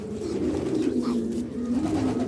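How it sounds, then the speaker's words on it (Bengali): A pigeon in a loft coos in a steady, low rolling murmur that continues without a break, close and fairly loud, with other birds faintly in the background. "আর এই যে একটি কবুতর এতক্ষণ ডাকছিল"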